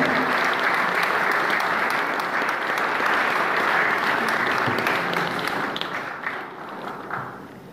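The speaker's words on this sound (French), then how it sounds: "Je pense que vous pouvez réserver vos applaudissements à Bruno." Sustained applause from an audience at a book launch evening in Angers, a dense wash of many hands clapping at steady loudness that gradually thins and fades toward the end.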